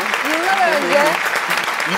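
Audience applause in a studio talk show setting, a steady wash of clapping mixed with talk and laughter over about two seconds.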